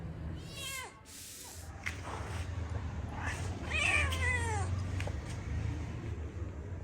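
A collared pet cat meows several times in rising, wavering calls, fairly close, over a steady low background hum with no talking.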